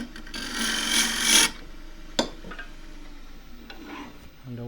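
Half-inch spindle gouge cutting a taper into splintery she oak on a wood lathe, a loud rasping scrape for over a second, then a sharp brief tick and quieter scuffs.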